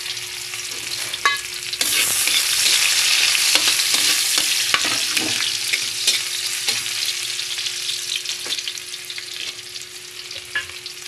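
Onion, garlic and ginger sautéing in a pan for a papaya dish: a sudden sizzle swells as they go in, then keeps crackling steadily under frequent sharp clacks and scrapes of the stirring utensil.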